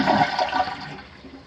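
Toilet with a weak fill valve flushing, a close rushing swirl of water that fades as the tank begins refilling.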